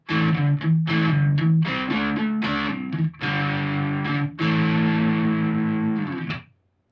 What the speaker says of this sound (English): Just enough grit to get you that nice dirty sound.